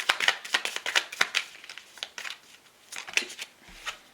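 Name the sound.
drawing tarot cards from a shuffled deck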